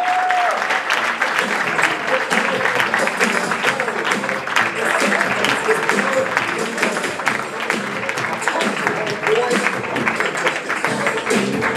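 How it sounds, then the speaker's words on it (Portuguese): Sustained audience applause at a talk or presentation, dense clapping from a large crowd continuing for over ten seconds at an even, loud level, with occasional voices and whistles mixed in. "Uma salva de palmas para Madja, uma mulher de peso."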